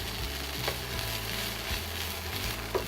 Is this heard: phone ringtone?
no